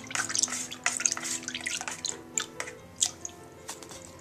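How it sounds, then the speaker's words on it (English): Ginger wine being stirred with a sterilised spoon, giving wet, irregular clinks and swishes of liquid close by, with small splashy drips spread through the stretch and no talk. "I'm going to give it a good stir with a sterilised spoon."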